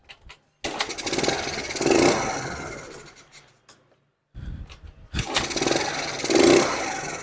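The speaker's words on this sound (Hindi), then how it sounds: "आसानी से बाइक हम लोग का स्टार्ट हो चुकी है।" A Hero Maestro scooter engine starts twice, each time cranking into a rough buzzing idle that runs for a few seconds, with a short silence between the two starts.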